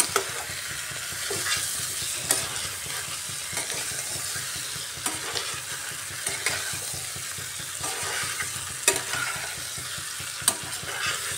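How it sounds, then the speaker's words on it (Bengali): Chicken with spices stirred and fried in a pan: a steady sizzle runs throughout while a utensil scrapes and clinks against the pan at irregular intervals, close and moderately quiet, with no talking. "এভাবে বারবার নাড়িয়ে ভালো করে কষিয়ে নিতে হবে"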